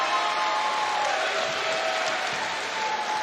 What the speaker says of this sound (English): Gadd's jump hook is good, and the Moraga crowd loves it